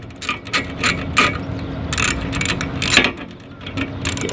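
A ratchet tightens the middle strap of a Swagman Upright roof-mount bike rack, producing short, close clicking bursts in an uneven rhythm over a faint background, with no talking.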